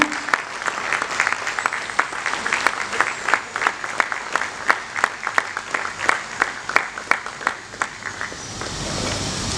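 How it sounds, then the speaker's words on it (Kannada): An audience at a television premiere league launch event applauds actor Sri Murali, with dense, steady clapping from many hands that keeps going at an even level throughout. "ಸುನಿಲ್ ಶ್ರೀ ಮುರಳಿ ಅವರಿಗೆ ದಯವಿಟ್ಟು ಜೋರಾದ ಚಪ್ಪಾಳೆ ಬರಬೇಕು"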